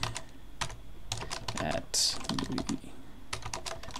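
Rapid typing on a computer keyboard, close and fairly loud, with irregular bursts of key clicks and brief pauses, under quiet talk.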